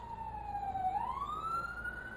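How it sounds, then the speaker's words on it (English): An ambulance siren passes a greenhouse, a single wailing tone that dips and then rises again, faint and distant over low background hum. "There goes an ambulance."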